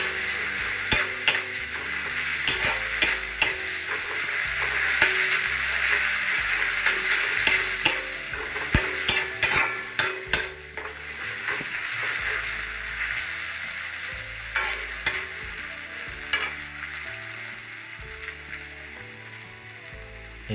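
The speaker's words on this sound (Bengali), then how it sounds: "অল্প পরিমাণে জলটা দিয়ে মশলাটাকে ভালো করে কষাতে থাকবেন" Masala for an omelette spice mix stir-fried in a pan with a little water gives a continuous close sizzle, broken by many sharp scraping and tapping strokes of a spatula against the pan in irregular bursts.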